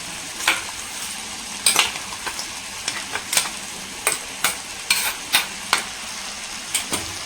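A ground spice mixture is stirred into a beetroot stir-fry in a pan, with a low sizzle under irregular scraping clinks of a metal spoon against the pan, close and fairly crisp.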